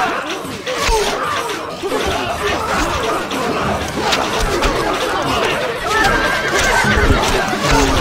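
Horse whinnies in the video game Stronghold Crusader ring out amid a dense, steady bed of game battle noise and crowd chatter, with clip-clop hooves faintly mixed in throughout.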